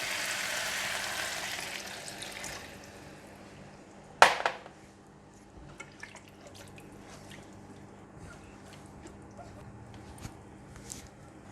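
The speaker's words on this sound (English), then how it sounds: "And now we are adding in the water." Water is poured into a pot of vegetable soup with radish and carrot, first as a steady hiss of flowing liquid, then a sharp clink of the pot followed by faint drips and small kitchen clatter.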